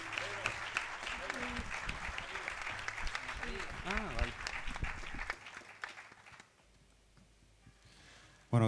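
Concert audience applauding a timple player at a Día de Canarias show, a steady wash of clapping for several seconds that fades out near the end, with faint voices mixed in.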